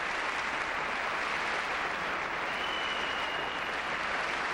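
A big ice rink crowd gives ecstatic applause after the Duchesnays' 1990 exhibition programme, a thick, steady wash of clapping heard from a distance with no pauses.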